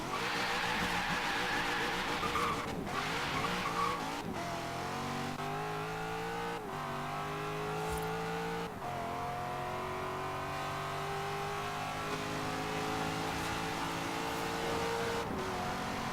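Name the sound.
995 hp Corvette C7 Z06 accelerating at full throttle in Forza Horizon 3 (video game)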